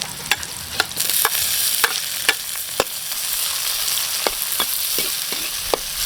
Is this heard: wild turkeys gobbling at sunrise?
no